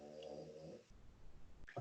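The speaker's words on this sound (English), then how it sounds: "that was the dog snoring" A dog snores softly nearby, low rumbling breaths that rise and fall over a couple of seconds, faint and alone.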